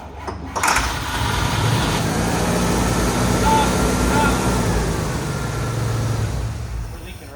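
A 1956 Oldsmobile engine in rusty, long-neglected condition cranked by the starter, a loud close steady whirring churn lasting several seconds without catching, following a sharp click at the start.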